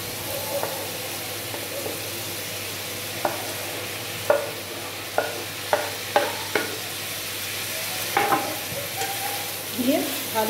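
Chopped tomato and capsicum sizzle in a pan at a steady moderate level, punctuated by a series of sharp spatula scrapes and taps as the mixture is stirred, close and without speech.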